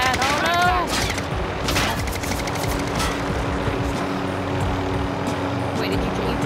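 Video game gunfire in a multiplayer match, a burst of rapid shots and rattling fire amid loud game noise, with players talking over it.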